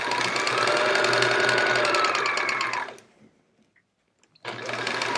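A sewing machine stitches a chevron quilt in a fast, even, close-up whir, stops for over a second of near silence, then starts stitching again at the same pace.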